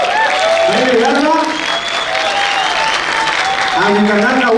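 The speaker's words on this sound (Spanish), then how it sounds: "Fuerte aplauso a nuestro jurado calificador." Loud applause and cheering from a crowd at a rap songwriting contest, continuous and close, with excited voices and whoops rising above the clapping.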